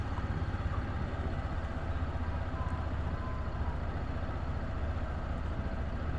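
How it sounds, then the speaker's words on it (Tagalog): A Motorstar Legend 125 FI motorcycle engine idles with a low, steady hum, quiet and even throughout, with no speech over it. "Tahimik yung makina niya ngayon."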